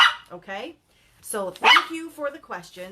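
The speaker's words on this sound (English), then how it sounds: "Sorry about the dog barking." A dog barks a few times close by, its yaps tangled with a person speaking steadily over them.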